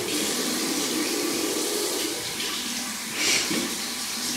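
A household tap runs in a steady, loud stream for rinsing out a nose, with a brief splash partway through and no talking.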